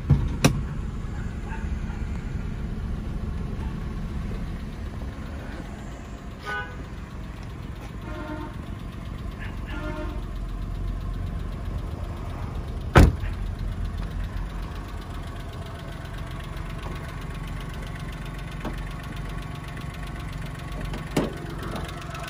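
A 2010 Chevrolet Spark with a 0.8-litre engine and manual gearbox idles with a quiet, steady low hum, broken by a few faint clicks and one sharp tap.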